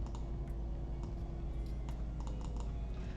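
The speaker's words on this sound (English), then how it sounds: "I'm gonna type" Computer keyboard typing in a steady stream of light, close clicks and taps with no talking, set against a constant low room hum.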